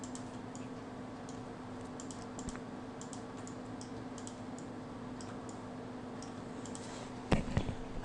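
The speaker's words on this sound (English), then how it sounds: "I'm using a new keyboard today as well" Typing on a new computer keyboard, quiet close key clicks in irregular bursts over a faint steady hum, with a couple of louder clacks near the end.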